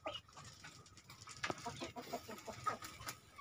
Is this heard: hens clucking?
yes